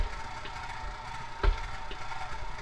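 A stand mixer with a paddle attachment working bread dough, giving a steady mechanical whir with faint rhythmic ticking and one brief louder knock, moderately quiet and close by with no talking.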